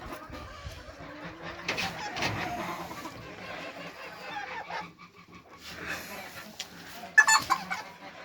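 Chickens and a rooster calling at a distance, with scattered clucks and a sharper squawk near the end, over faint outdoor background noise.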